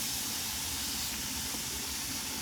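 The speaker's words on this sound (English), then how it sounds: "I've got this skillet on medium high to get a good sear on the steak tips here." Filet mignon steak tips sear in a skillet over medium-high heat, giving a steady, close, dense hiss that holds evenly throughout.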